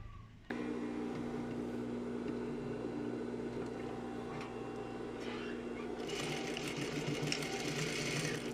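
A sewing machine starts up and runs steadily, stitching the first seam on a pair of shorts with a loud, close, even whir and a faint high rattle building near the end.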